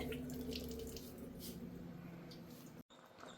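Water runs steadily from a kitchen water filter, poured for cooking chicken, a continuous close splashing flow that cuts off briefly near the end.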